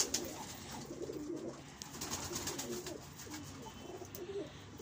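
Soft, steady cooing from a female pigeon in a breeding loft, fairly close, with faint background rustle and no talking.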